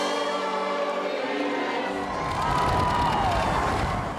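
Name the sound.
crowd cheering for Prince Philip outside Accrington town hall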